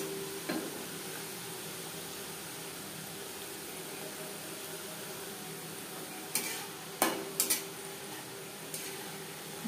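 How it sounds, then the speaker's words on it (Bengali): Nimki frying in hot refined oil over a medium flame, a steady soft sizzle running throughout with a few sharper clicks and pops near the end. "নিমকি ভাজবার জন্য বেশ খানিকটা রিফাইন্ড অয়েল গরম করে নিয়েছি"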